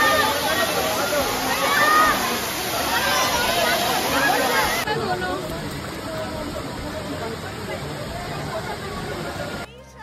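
Steady rushing roar of the main waterfall at Pachmarhi, heard close and loud throughout, with the background babble of a crowd of visitors mixed in.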